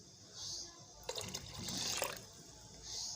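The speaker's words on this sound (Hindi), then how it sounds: "अब मैं इसमें पानी डाल दूँगी। ज़्यादा सारा पानी डालेंगे क्योंकि हमने यखनी बनानी है।" Water poured into a cooking pot of mutton for yakhni pulao gives a steady, splashy gurgle lasting about a second, set against a soft background hiss.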